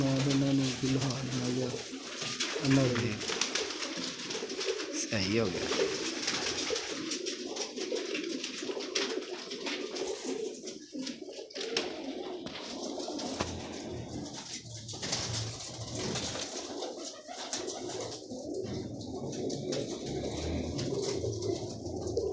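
Pigeons coo repeatedly in low, soft, rolling calls, close at hand, while people talk over and between the calls throughout.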